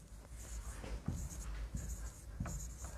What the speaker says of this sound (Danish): jeg kan skrive det ordet, siden jeg liksom har en tavle her